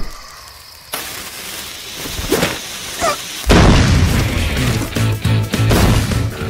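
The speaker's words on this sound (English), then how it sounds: "A Bomberman inspired Wild West action game with bombs" Bomb explosions in the Wild West action game Bombslinger: a few sharp pops and then a loud, sustained booming rumble of blasts with crackling bursts, close and heavy.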